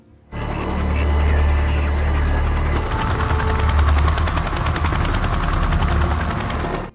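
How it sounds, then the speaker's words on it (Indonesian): A helicopter flies in a film scene, giving a loud, steady rotor drone with low thumping that holds from the first moment to the end, with an indistinct voice or music layered faintly over it. "sebuah helikopter dari markas diberangkatkan"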